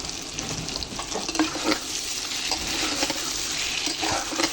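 Spice masala with chili powder and salt sizzling and being stirred in a pan, a steady fry hiss broken by frequent scraping and clinking strokes of the spoon, close and fairly loud, with no talking.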